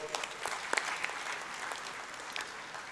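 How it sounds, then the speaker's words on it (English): Steady applause from the audience at a university convocation ceremony, a dense even wash of many hands clapping with a few sharper claps standing out, moderately distant and continuous throughout. "a big round of applause to all of you"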